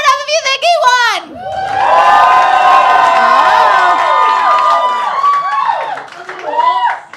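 Roast battle audience bursts into loud cheering and shouting with clapping, a sustained crowd roar that swells and holds for several seconds before fading, with a brief voice at the start.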